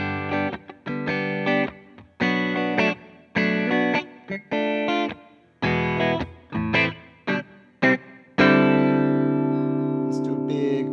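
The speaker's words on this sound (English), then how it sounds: "Telecaster style guitars sound really good in the middle too" Telecaster-style electric guitar on the middle pickup position strums choppy rhythmic chords with effects and reverb, then lets a final chord ring out sustained.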